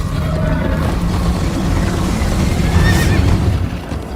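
A loud horse whinny rings out over a dense rumble of galloping hoofbeats and background noise, all close and continuous, in the video game Minecraft: Story Mode.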